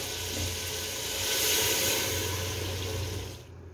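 Water pours steadily into a pot of kofta curry in a continuous rushing stream, swelling slightly then tapering off at the end.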